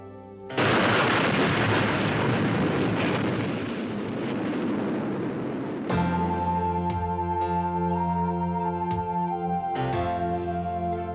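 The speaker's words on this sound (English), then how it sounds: "As man detonated weapons of immense power" An atomic weapon detonation: a loud, sustained roaring rumble bursts in and lasts about five seconds, then fades under music that takes over.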